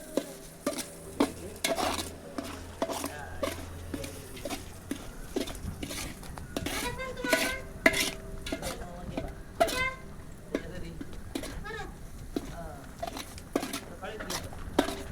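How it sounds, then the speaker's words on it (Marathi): Spices tempered in oil for sambar on a wood-fired stove, with soft sizzling under frequent scraping stirs and clinks of a metal pan and utensils, while people talk nearby. "या चुलीवरती सांबरला आपण फोडणी घातलेली"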